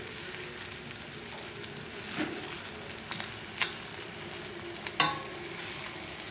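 Shrimps sizzle steadily in a hot pan, a continuous close frying hiss with a few louder pops and spatters, no voices over it.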